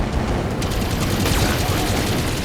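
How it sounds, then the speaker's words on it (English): Machine guns in the Battletech video game roar as a loud, dense barrage, steady and unbroken throughout, with rapid rounds blurring into one harsh wall of noise. "Oh, machine guns"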